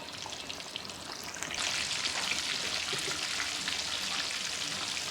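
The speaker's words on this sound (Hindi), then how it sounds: "अब दूसरी साइड फ्राई हो रही है।" Masala fish fries in a hot pan after being flipped to cook the second side, a steady bright sizzle that swells louder partway through and then holds continuous, close and alone.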